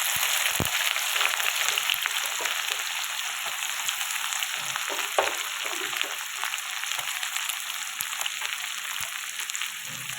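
Chopped onions, three medium ones, frying in hot oil with a continuous, even crackling sizzle, close and steady throughout with faint occasional stirring.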